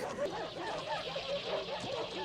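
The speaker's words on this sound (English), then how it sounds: "these poor dogs, they're so scared" Frightened dogs in the horror film The Thing whimper, yip and bark in a steady, agitated chorus, with voices partly mixed in throughout.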